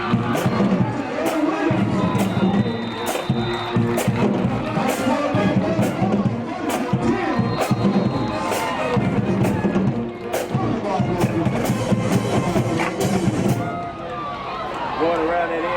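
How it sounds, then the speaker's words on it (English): A large crowd at a Grady vs. Carver high school football game roars and yells continuously at a fake punt, with loud, dense cheering, percussive bangs, and talk over the noise. "you heard the crowd yelling"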